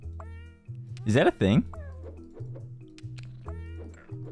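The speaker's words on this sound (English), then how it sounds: "This is my cat after eating a can of tuna." A pet cat that has just eaten a can of tuna lets out two loud, drawn-out meows in quick succession, close up, with a person talking before and after.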